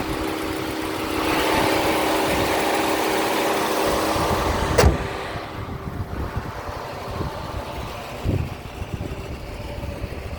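Mercedes W126 500 SE engine running on a test drive after a new ignition coil, a steady mid-pitched drone that drops slightly after a sharp click midway, with a few soft bumps afterward.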